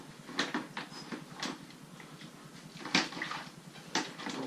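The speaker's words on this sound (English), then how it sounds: "So just rinse the whole pipe over the outside so it all gets covered in it." Water splashing and rinsing over the outside of a pipe while kegging rye beer at home, with intermittent close splashes and clatter over a steady wet background.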